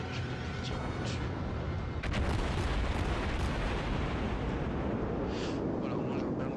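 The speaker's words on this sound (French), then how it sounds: "Voilà, mes canons sont alignés. Je vais tirer un peu dessus." Naval guns on a warship firing in World of Warships, a dense roaring blast that swells after about two seconds into a sustained thunderous rumble, loud and continuous with no clear separate shots.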